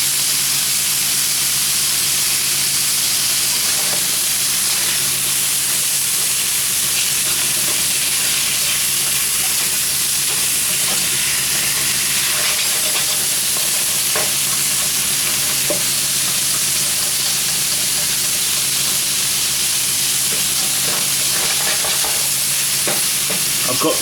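Beef browns in a hot pan with a steady, loud sizzle and hiss, broken by occasional scrapes and knocks as the meat is stirred, continuous for the whole stretch.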